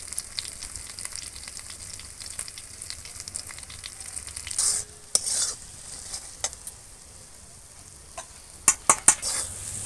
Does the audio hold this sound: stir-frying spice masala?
yes